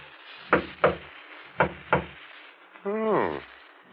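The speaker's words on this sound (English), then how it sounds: "There's a discreet knock on the door at the front of the shop." Four discreet knocks land on a shop's front door in two pairs, close and distinct against a quiet room tone, followed by a short voiced sound.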